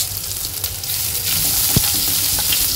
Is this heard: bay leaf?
yes